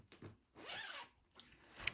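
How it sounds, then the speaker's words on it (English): A zipper being undone on a fabric beach or diaper bag, one quiet close ripping pull after a couple of small clicks, then a faint tug and a sharp tick at the end. "we want to undo our zipper"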